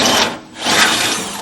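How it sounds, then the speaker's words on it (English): A power drill grinds through a trailer fender close up, running loud and rough in two steady bursts with a brief dip between them and no talking. "and you'll just drill through"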